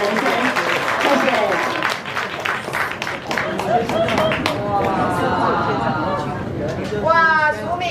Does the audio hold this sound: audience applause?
yes